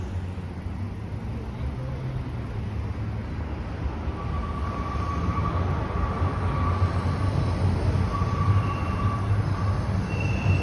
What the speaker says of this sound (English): I can hear the subway rumbling.